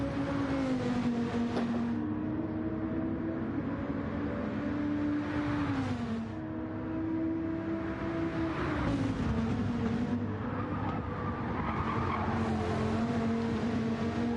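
A GT3 race car in a racing video game at Sardegna slides sideways onto gravel, its engine holding a steady droning tone with shifting pitch, tire scrub and gravel noise throughout, loud and continuous.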